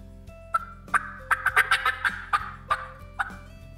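A hunting call imitates a turkey hen's fast cutting fly-down cackle: a quick, irregular burst of about a dozen sharp, raspy clucks that bunch up and then trail off, loud and close with no talk.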